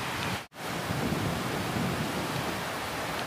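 Strong wind buffeting steadily at Kahai beach on the coast, a loud continuous roar with a brief dropout, no voices.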